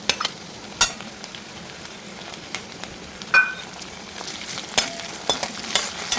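Crushed ginger and garlic frying in a pan for a potato and pea curry, a soft steady sizzle with occasional sharp clinks and scrapes of stirring.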